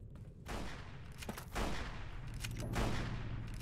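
Bursts of gunfire in the game Fallout New Vegas, loud, dense volleys that start after a brief quiet and keep rolling in overlapping waves to the end, with no talk.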